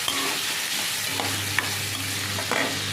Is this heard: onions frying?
yes